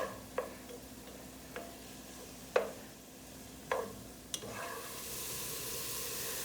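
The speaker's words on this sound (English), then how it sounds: "Give it a good stir" Garlic sizzles in a pan as it is stirred for a fettuccine Alfredo sauce, a faint steady hiss broken by a few soft clicks and taps of the utensil against the pan.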